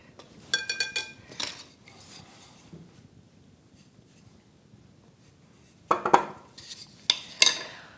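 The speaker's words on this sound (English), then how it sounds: "Okay, so mixing these dry ingredients together." Dry scone ingredients for raspberry scones are mixed in a bowl: scattered bursts of utensil scraping and clinking against the bowl, separated by quiet gaps.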